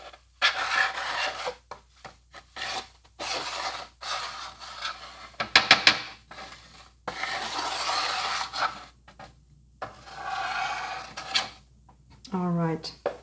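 A metal scraper rasps across the top of chocolate bonbon molds, clearing off excess chocolate in a run of repeated scraping strokes with short pauses between them, close and fairly loud.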